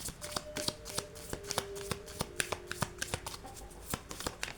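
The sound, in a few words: shuffling playing cards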